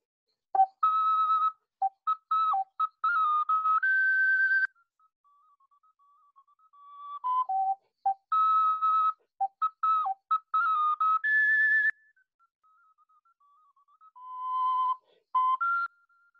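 Antique hand-shaped Donati ocarina with nine holes, more than 150 years old, played solo in clear, pure, whistle-like phrases of short and held notes, with quiet pauses between them.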